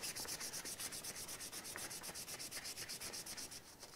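Steady back-and-forth hand sanding on vintage motorcycle parts, a rhythmic rasping scrub repeating several times per second, close and fairly quiet, with no talking.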